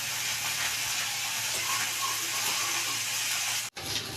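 Small puti fish frying in a pan for a Bengali chorchori, giving a steady, fairly loud broadband sizzle with faint crackles that runs without a break. It stops abruptly near the end and then resumes.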